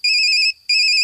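A telephone ringtone sounds close and loud as two bright electronic bursts separated by a short gap, with no other sound around it.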